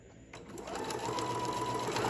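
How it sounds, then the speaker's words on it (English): A sewing machine stitches a fabric bowl cozy corner to corner in a steady, continuous whirring run that swells slightly as it goes, with no talking. "And you're going to sew it next, all the way to the opposite corner."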